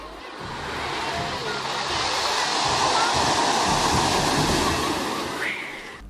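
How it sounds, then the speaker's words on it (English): Ocean surf surges toward a beach as a large wave approaches, a broad roaring wash that swells steadily louder and then fades, with wind noise mixed in. "they are taken by surprise as a tidal wave from the ocean approaches unexpectedly"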